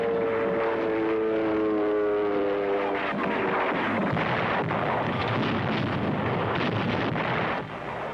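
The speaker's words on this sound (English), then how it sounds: "Navy planes roar into the attack." Navy planes diving into an attack on Mount Suribachi, Iwo Jima, during the Second World War produce a loud, continuous engine roar. A droning propeller tone at first gives way to heavy rumbling and blasts.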